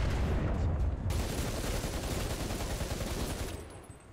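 Rapid, continuous machine gun fire from a tank in the War Thunder video game, a dense sustained burst that runs loud throughout and tails off slightly at the end.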